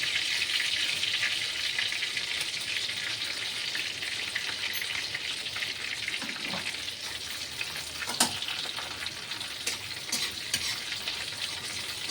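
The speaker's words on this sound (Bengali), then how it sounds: "আর জিরে ফোড়ন দেব।" Cumin seeds tempering in hot oil, a steady, close sizzle with a constant hiss that runs unbroken throughout, with a few faint clicks and crackles scattered over it.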